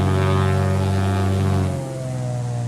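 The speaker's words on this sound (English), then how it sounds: "if you add full power on both engines with the parking brake on, it'll just move off" Twin piston engines of a Piper Aztec PA23 in X-Plane drone at full power as a steady, loud, tonal roar, then the pitch drops slightly near the end, with no voices.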